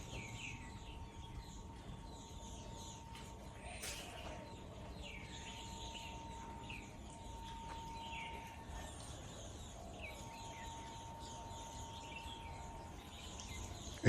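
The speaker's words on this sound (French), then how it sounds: "je me tais pour essayer de vous faire entendre les oiseaux." Faint birds chirping and tweeting repeatedly over a low, steady outdoor hum at a quiet hotel in Thailand, with no one talking.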